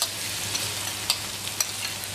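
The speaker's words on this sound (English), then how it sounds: "we're going to saute lightly the garlic" Garlic sautés lightly in a pan with onions already softened, producing a steady, moderately quiet sizzle with occasional small pops and the clink of stirring.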